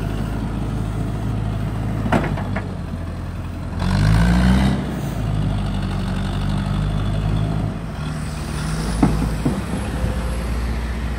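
A Maxxor mini loader runs during testing, its diesel engine idling in a loud, steady drone close by, with a brief swell in revs midway and a few clanks over it.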